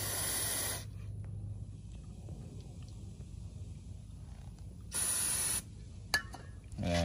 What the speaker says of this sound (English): go ahead and blow it out with some carburetor cleaner